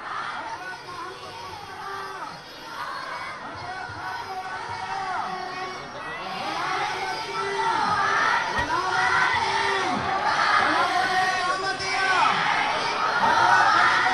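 A large crowd at a welcoming arrival in Germany chants slogans in rhythmic unison, the call-and-response rising louder and fuller over time amid cheering voices.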